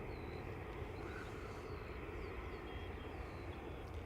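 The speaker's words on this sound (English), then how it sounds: "We have LRB lined up, going to Newark, 321 Neo." An Airbus A321neo airliner lined up at Dublin Airport, bound for Newark, gives off a steady distant broadband jet roar, even and unbroken throughout, fairly faint with no talking.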